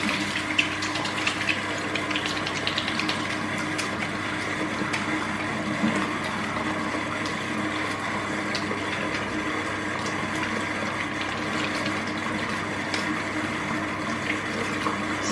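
Lukewarm tap water runs continuously while a bar of homemade 5/6 oil soap is lathered, a steady close splashing gush that holds its level throughout with no talk.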